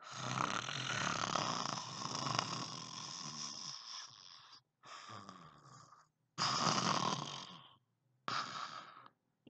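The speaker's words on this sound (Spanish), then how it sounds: "Y roncaba además como solo roncan los ogrontes." Loud, rasping snores repeat in long rumbling breaths separated by short silences, close and rhythmic.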